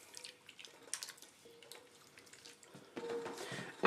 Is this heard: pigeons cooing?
no